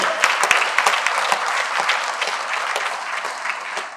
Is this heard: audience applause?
yes